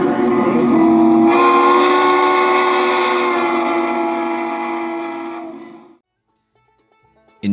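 A Northern Pacific articulated steam locomotive sounds a loud, sustained chime-like steam whistle that holds for several seconds, fades, and cuts off into near silence before another sound bursts in at the end.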